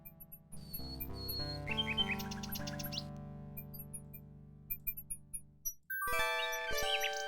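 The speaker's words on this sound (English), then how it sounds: "She sings the most beautiful song Alexander has ever heard." Synthesized chiming, trilling birdsong from a nightingale in the King's Quest VI adventure game, bright bell-like notes over sustained tones, a run of quick staccato chirps, then a fresh burst of layered melodic notes.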